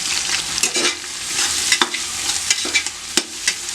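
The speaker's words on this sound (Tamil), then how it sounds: "இப்போ எல்லாத்தையும் ஒன்றா போட்டு பொரிச்சுக்கலாம்." Sliced onions and slit green chillies sizzle in hot oil for mutton biryani, with a steady crackling fry and repeated scraping stirs of a spoon against the pan.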